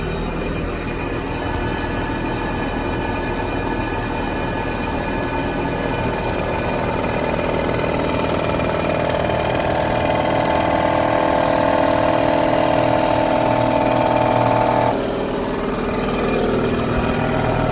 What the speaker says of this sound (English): It goes really slow, cuts the head, and makes it nice and flat and built in.